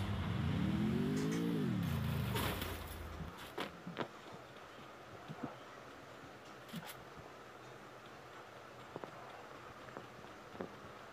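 Motorbike engine revving in the mobile game Free Fire, a loud rising and falling rev for about three seconds that cuts off, followed by quiet game ambience with scattered footsteps and small clicks.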